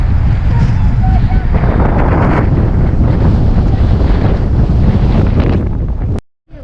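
Strong coastal wind buffets the microphone on a clifftop path above the sea at St Ives, Cornwall, a steady loud rumble lasting several seconds before cutting out abruptly.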